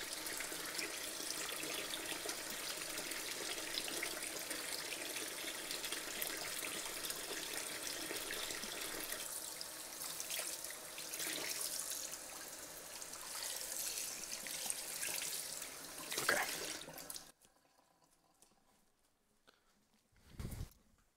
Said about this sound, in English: this sink likes to spit out water so hard it splashes everywhere